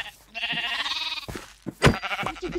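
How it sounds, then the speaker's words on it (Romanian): Sheep bleat in the Minecraft video game, a drawn-out wavering bleat followed by shorter choppy ones, loud and close. "Uite câte oi sunt."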